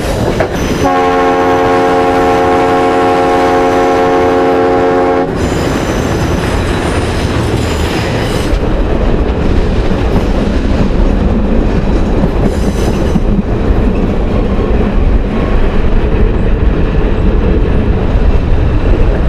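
A train horn blows a long, loud chord for several seconds, then gives way to the heavy rumble and clatter of a train rolling close by.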